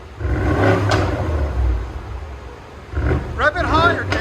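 A 2019 BMW M550i with a 4.4L V8 and resonator-deleted dual exhaust, giving a deep, loud rumbling rev that fades and then returns, while people talk nearby.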